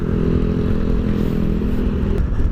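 A Yamaha NMAX V2.2 scooter engine runs steadily under light throttle, a close, continuous low mechanical drone with no talk over it.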